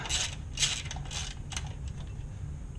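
A ratchet backs out nuts and bolts holding the sprocket of a pull-string recoil starter, giving rapid, close, repeated metallic clicking with gear-like rattles and no voices.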